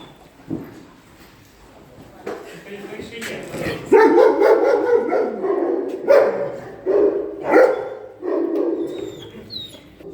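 Several dogs bark and yip in short bursts, close by, with excited voices talking over and between the barks.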